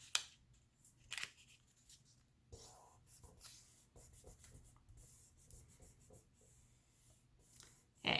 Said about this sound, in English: we're going to pick up just the top sheet and fold that down